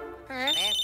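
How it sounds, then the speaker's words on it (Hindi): A phone ringtone sounds up close after a brief lead-in, a bright electronic warbling melody playing in the foreground of an animated cartoon scene. "नहीं उठाऊंगा, नहीं उठाऊंगा, मैं फोन नहीं उठाऊंगा।"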